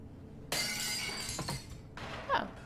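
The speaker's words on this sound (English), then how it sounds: "Nice to know that I can break glass." Glass shatters loudly in the Cyberpunk video game, a sharp broadband crash with a trailing tinkle of shards, then a second smaller breaking burst a moment later.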